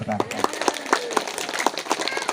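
An audience at a children's festival opening applauds in a series of sharp, distinct claps spaced across the moment, moderately loud and close, with voices murmuring underneath.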